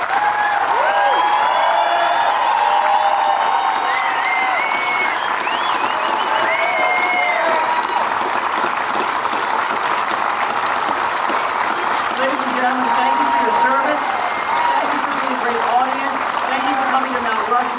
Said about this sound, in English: let's show them how we feel about them with another round of heartfelt applause